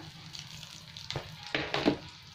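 Bay leaves and a few dried red chillies sizzle in hot oil for a Bengali chicken curry, a low steady crackle with a few louder bursts of spitting near the end.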